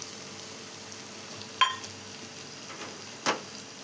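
Onions fry softly in oil with coriander and coconut powder stirred in, a faint steady sizzle broken by a few sharp clicks of a spoon against the pan.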